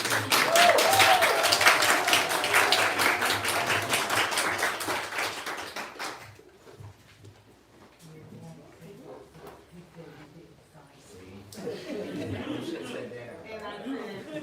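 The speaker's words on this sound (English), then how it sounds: "Let's have another really big round of applause." A big round of applause from the audience at a book event, dense steady clapping for about six seconds before fading into murmuring and talk, then swelling a little again.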